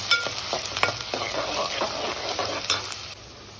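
Onion and garlic paste fry in hot oil, a loud close sizzle with repeated scraping stir strokes that fades slightly toward the end.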